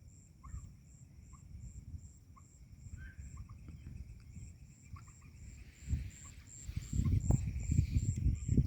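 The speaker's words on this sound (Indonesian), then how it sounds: "Hanya suara burung" Repeated short bird calls ring out at intervals at night by a shrimp pond, over a steady high insect drone and low rumbling background, with a louder rustling burst near the end.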